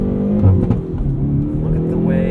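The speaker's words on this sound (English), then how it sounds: "Look at the way it pulls out of a corner in first gear." A Hyundai Veloster N accelerates hard out of a corner in first gear at night, its engine note loud and close from inside the cabin, rising and droning steadily, with a voice talking over it.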